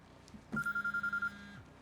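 A cell phone in Quantum Break buzzes in a quick pulsing trill of about eight rapid beats over a low tone, fairly close against a quiet background.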